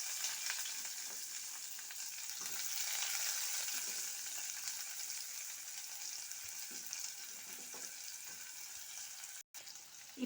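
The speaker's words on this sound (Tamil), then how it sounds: "வெங்காயத்தில் போட்டு வதக்கணும்." Onions sautéing in oil with popped mustard seeds in a pan for garlic kara kuzhambu, a soft continuous sizzle with occasional stirring, quiet and close, no talking.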